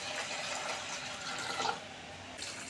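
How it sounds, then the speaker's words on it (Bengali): Water poured into a cooking pot for a chicken-fat chana dal recipe: a soft, steady splashing trickle, faint and close, running alone for a few seconds without speech. "তো প্রথমে একটি পাত্রে দিয়ে দিব জল"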